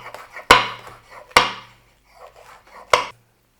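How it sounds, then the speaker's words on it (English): Knife slicing red pepper thin on a cutting board, three crisp, close chops spaced about a second apart with faint scraping between them. "Red pepper, just slice them."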